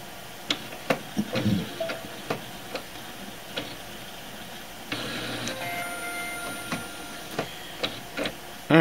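An HP OfficeJet printer working through a job gives off a steady run of short, regular clicks and ticks, with a stretch of mechanical whirring partway through and a louder clunk at the very end.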